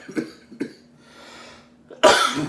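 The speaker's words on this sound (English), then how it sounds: "sorry about the coughing" Two quick coughs close by, a quiet pause with faint background, then a loud harsh cough burst at the end.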